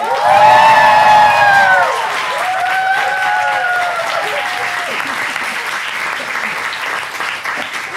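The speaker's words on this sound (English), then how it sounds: "Ladies and gentlemen, please give a big round of applause to Ching!" Audience applause and cheering greet a speaker named Ching taking the stage at a Piktochart product talk, loud at first with whoops over the clapping, then settling into steady sustained applause.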